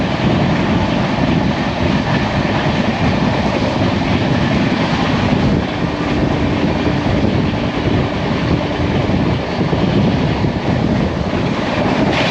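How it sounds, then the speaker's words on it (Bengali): Onboard the UDAY Express double-decker train running between Visakhapatnam and Vijayawada: a loud, continuous rumble and roar of wheels on rails with wind noise, steady throughout and no talking. "ট্রেন এখন পার করছে নরসিংহট্টম রোড"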